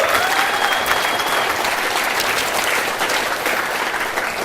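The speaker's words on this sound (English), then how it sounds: "give the guys at the back a big round of applause" A crowd at a live show gives the backstage crew a dense, steady round of applause, loud and continuous throughout with no talk over it.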